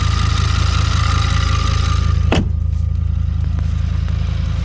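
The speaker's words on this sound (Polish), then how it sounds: "Prawdziwy RS6 silnik 5 litrów V10 TFSI" An Audi RS6 5.0-litre V10 TFSI engine idles with a steady, deep rumble close by, broken by one sharp clack midway.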